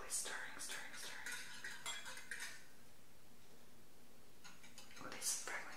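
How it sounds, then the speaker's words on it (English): A spoon stirs melted soy wax in a container for candle making, giving faint repeated clinks and scrapes in quick bursts at the start and again near the end, with quiet pauses between. "Getting the spoon and quickly stirring, stirring, stirring."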